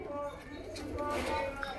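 A red Chinese pigeon with white eyes gives a short, soft coo close by, mixed with faint background bird sounds and a voice talking over it.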